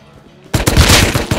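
Gunfire in the survival game Rust, a loud burst of rapid close shots that starts abruptly after a brief quiet lead-in.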